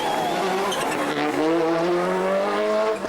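Colin McRae's Subaru rally car drives on a wet stage, its engine note climbing and holding loud and close for a few seconds, with a voice speaking over it.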